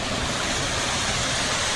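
Water trickles and splashes off moss at a small waterfall on a forest river trail, a close, loud, continuous broadband rush with no voices.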